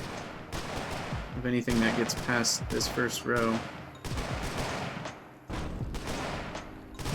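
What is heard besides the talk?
musketeers and hand cannons firing in video game Colony Survival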